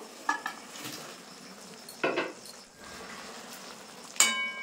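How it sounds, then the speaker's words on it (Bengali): Katla fish kofta curry gravy boils in a pan, a soft continuous sizzle and bubbling broken by a few close metallic clinks of a utensil against the pan. "ঝোল কিন্তু টকবক করে ফুটে গেছে।"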